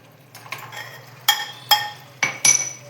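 A spoon knocks against a pot while brinjal-potato gravy is stirred, making about five bright metallic clinks at uneven intervals over a quiet background.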